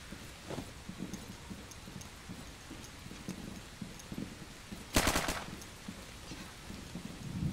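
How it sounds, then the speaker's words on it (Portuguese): A quick burst of rapid gunfire cracks out midway inside a house in a tactical co-op video game, reverberant and loud, amid faint scattered taps and background noise. "O barulho de tiro de dentro faz mó eco, né? Dentro da casa."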